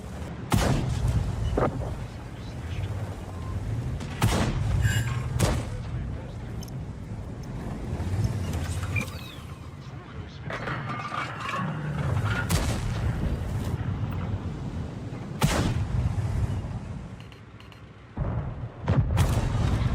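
Tank cannon firing a double shot in World of Tanks from an FV4025 Contriver, several sharp booms spread across the clip against low engine rumble, with a voice talking over parts of it.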